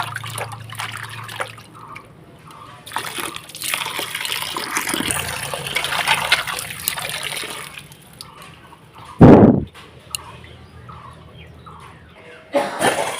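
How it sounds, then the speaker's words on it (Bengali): Water runs and splashes while pieces of fresh snakehead (shol) fish are washed, a continuous close trickle with dripping and one sharp loud splash near the end. "মাছগুলো আমি ভালোভাবে ধুয়ে নিচ্ছি একদম পরিষ্কার করে"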